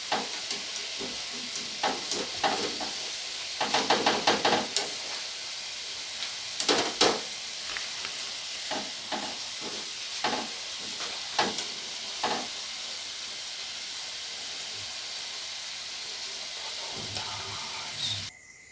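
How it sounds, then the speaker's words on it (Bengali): Tal bora, palm fruit fritters, deep-fry in oil with a continuous sizzle. Scattered clinks and scrapes of a slotted spoon stirring and lifting the fritters sound throughout. "তো এইভাবে সমস্ত বড়াগুলো আমি একইভাবে ভেজে নেব।"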